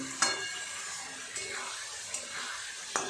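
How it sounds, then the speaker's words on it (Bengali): Boiled potatoes being sautéed with spice paste in a pan for a vegetarian dish, a steady soft sizzle with a few sharp stirring scrapes spaced about a second apart, close and moderately quiet. "আলুগুলো মশলার সাথে একটু কষিয়ে নেব"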